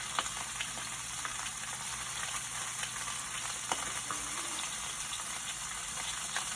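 Venison meatballs searing in a hot pan, a steady loud sizzle with scattered crackles and pops that continues without a break.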